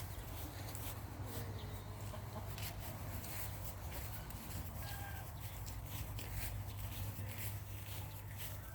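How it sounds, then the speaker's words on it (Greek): Hens cluck and chatter steadily at a moderate distance, with scattered short calls over constant low farmyard noise throughout, and no voices. "Εδώ κότες."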